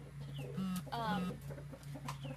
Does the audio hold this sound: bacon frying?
no